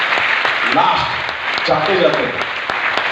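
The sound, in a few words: audience applause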